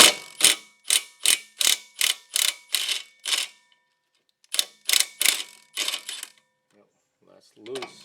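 A power tool fitted with an 18 mm socket whirs on the stabilizer end link nut of a 2007 Pontiac G6, firing in a quick series of eight loud, even bursts, then a pause and four more close up.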